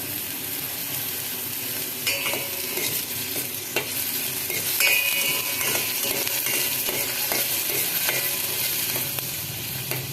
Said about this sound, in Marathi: इथे आपल्याला कांदा चांगला परतून घ्यायचा आहे